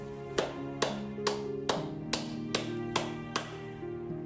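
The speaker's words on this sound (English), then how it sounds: "Clapping." A single person claps eight times at a slow, even pace, each sharp clap ringing briefly in a resonant room with no talking.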